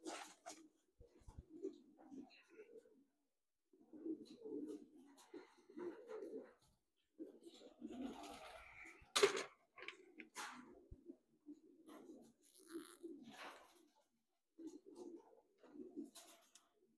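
Pigeons cooing in a one-loft race facility in Texas, soft repeated coos scattered through the clip beneath someone talking nearby, with occasional sharper handling noises.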